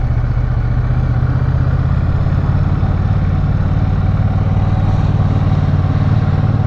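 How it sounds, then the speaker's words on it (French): A Bonneville motorcycle with small sausage-style exhaust pipes purrs in a steady, loud, close, low rumble that holds even throughout. "Elle fait un bon ronron cette Bonneville Tessan là avec ses petits pots saucissons."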